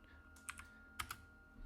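Keystrokes on a computer keyboard while typing a command in Rhino 6 3D modeling software on a Mac, a few quiet separate clicks in two small clusters over a low steady hum.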